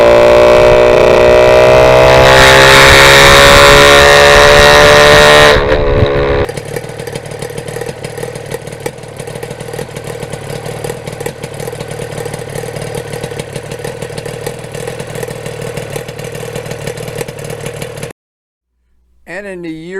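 A 1977 Yamaha RD400 two-stroke motorcycle with tuned expansion chambers revs hard and loud up close, climbing to a sharp high-pitched peak before dropping abruptly to a steady, buzzing idle that runs on, then cuts out briefly near the end.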